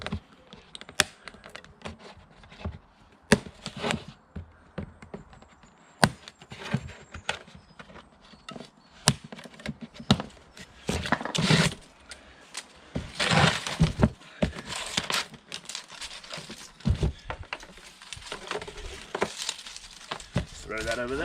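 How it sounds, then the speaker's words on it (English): A SIP Medusa Ti-1002 generator is taken out of its box, with a string of close cardboard and plastic rustles, knocks and scrapes in uneven bursts. "let's unbox it and have a look at it"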